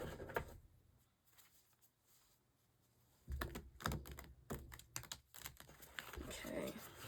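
Tarot cards are shuffled in short bursts of riffling and tapping, quiet at first and then busier and closer, with some speech-like sound mixed in.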